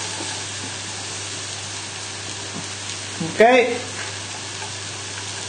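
Chicken juices with honey and lemon bubble and sizzle steadily in a roasting tin, a constant fizzing hiss with a brief clatter partway through and a voice speaking briefly.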